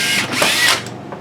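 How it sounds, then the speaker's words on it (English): A power drill bores a screw hole into wood in one short, steady whirring burst that fades out toward the end, with no talking. "I like to start screw holes with a drill"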